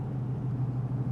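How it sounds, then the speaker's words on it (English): A steady, deep engine rumble from a 1929 DuPont Model G Speedster with an exhaust cutout, a throaty low exhaust drone holding even and fairly loud throughout with no voices. "the exhaust note is a fairly loud note because the car was equipped with an exhaust cutout"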